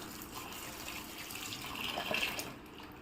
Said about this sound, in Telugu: దీంట్లో సాల్ట్ వేసుకొని వాటర్ వేసి శుభ్రంగా కడుక్కోవాలండి